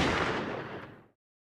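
A single heavy gunshot booms at once and rolls off into a short, dense decay before cutting to silence, loud and close with no voices.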